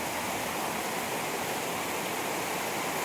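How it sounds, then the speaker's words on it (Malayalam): Heavy night rain pours down in a steady, dense hiss that stays loud and unbroken throughout, with no voices heard. "നല്ല മഴയാണ് കേട്ടോ."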